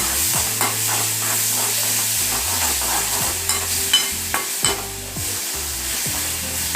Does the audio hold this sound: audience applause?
no